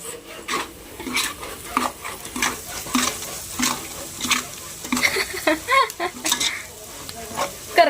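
Grated coconut roasts in a pan while being stirred, a repeated dry scraping and rasping of the spoon against the pan with a light sizzle. The strokes come in an uneven rhythm, close and moderately loud.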